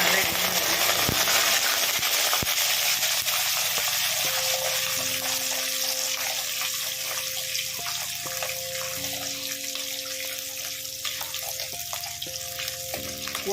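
Twenty-five garlic cloves are frying in oil with fenugreek and dried chillies for a curry leaf garlic gravy, giving a continuous crackling sizzle close up, with occasional stirring scrapes and clinks.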